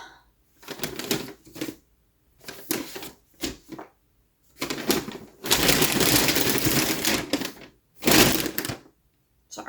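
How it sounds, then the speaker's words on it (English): A plastic bag holding yarn crinkles and rustles in close bursts of handling, with pauses between and one longer stretch of steady rustling, alone without talk. "So I apologize for the crinkling. I have it in a plastic bag."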